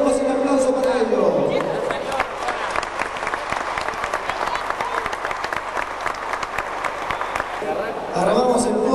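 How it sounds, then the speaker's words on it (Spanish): Applause for the championship podium at a motorsport awards dinner, a full room clapping loudly and continuously between stretches of a presenter speaking at the start and end. "Renovemos el aplauso para ellos."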